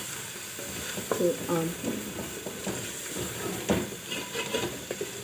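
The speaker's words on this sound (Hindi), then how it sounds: "अब हम इसको अच्छी तरह से भून लेंगे" Potato and meat fry and sizzle in oil or ghee in a pot, a steady close hiss broken by stirring scrapes, with someone speaking briefly over the cooking.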